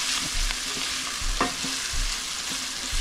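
Red onions sauté in hot oil with a soft, continuous sizzle, while a utensil stirs and scrapes against the pan every half second or so.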